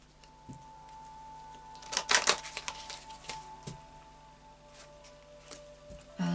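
Quiet, close-up shuffling of a Moonology Oracle card deck, with a cluster of soft rapid riffling clicks near the middle and scattered light taps around it.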